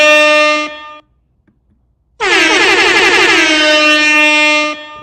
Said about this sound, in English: Where's my air horn right quick, man? I gotta hit my air horn